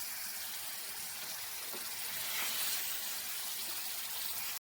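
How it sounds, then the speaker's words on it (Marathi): Water pours steadily into a pan of fried masala and fish for a fish curry, a soft continuous splashing rush that runs for a few seconds and then cuts off abruptly. "तर याच्यामध्ये आता आपण पाणी ओतून घेऊया"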